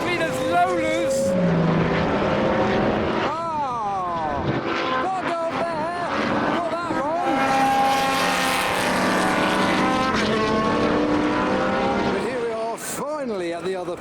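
Lola endurance race cars pass on a circuit while people talk nearby. Engine notes rise and fall through repeated passes, loud and fairly close.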